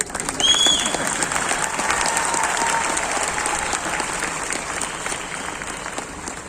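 An large audience claps at a stage event for a leadership gathering. The applause is dense and sustained, swells quickly, then slowly tapers.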